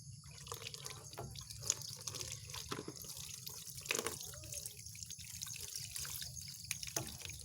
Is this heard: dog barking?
no